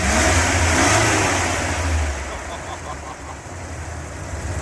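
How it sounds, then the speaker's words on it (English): A Mopar 318 (5.2) V8 revs up strongly, then the engine note falls away and settles toward a lower, steady running sound, heard close and loud. "Rev up your engine!"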